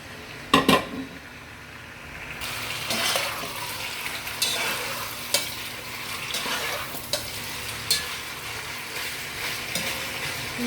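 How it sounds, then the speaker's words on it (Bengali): Chicken pieces fry in oil in a pan with a soft, continuous sizzle, joined by a few sharp utensil clinks near the start and occasional stirring scrapes. "ভাজা হচ্ছে, একটু মোটামুটি ভাজবো"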